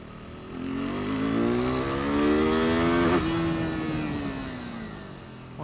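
A KTM RC390 single-cylinder motorcycle engine revs up under acceleration on a test ride, the pitch climbing steadily to a peak, briefly dipping at a gear shift, then settling into a steady drone.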